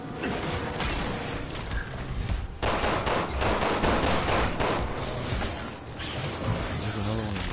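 Sustained loud bursts of gunshots ring out almost continuously, with mechanical clatter and brief pauses between volleys, while voices can be heard talking underneath.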